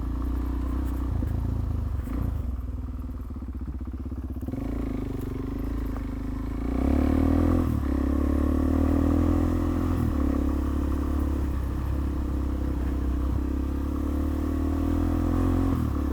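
A Suzuki DR-Z motorcycle rides off-road along a green lane, its engine giving a low, continuous rumble with mild clatter that lifts slightly in intensity partway through.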